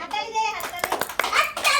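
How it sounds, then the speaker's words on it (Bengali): Several people in a family game clap loudly together in a short burst of sharp claps, mixed with a voice talking over them. "জোরে হাততালি একটা দুটো আলুর জন্য"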